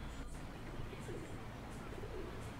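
A pigeon coos softly in the video game Almost My Floor, a few low throaty calls over a dense, noisy game background.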